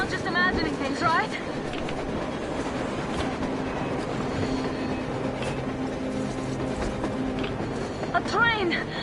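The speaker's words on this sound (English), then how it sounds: "A train! A damn train on the surface!" A train in the video game Metro Exodus rumbles and clatters steadily at close range, with metallic screeches and talk mixed in over the continuous noise.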